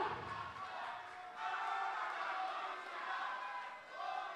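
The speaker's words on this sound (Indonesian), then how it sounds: "tepuk tangan yang meriah sekali lagi Bapak Ibu" A large crowd at a televised debate between North Sumatra gubernatorial candidates applauds and cheers steadily, a dense wash of clapping and voices that swells and dips slightly throughout.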